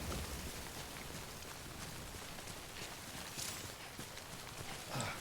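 Rain in the video game Death Stranding, a faint continuous hiss of falling drops with scattered soft patters and taps throughout.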